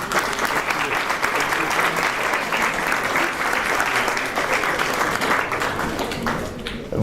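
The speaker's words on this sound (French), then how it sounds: "On peut l'applaudir." Festival audience in the Palais de Liège hall applauds a jury president, steady dense clapping from a large crowd that continues evenly before tapering off at the end.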